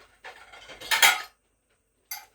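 Ceramic dinner plates clatter and clink as they are handled and set into a home oven to warm in a kitchen, two close bursts of clattering with a louder middle clank, then silence and a brief final clink.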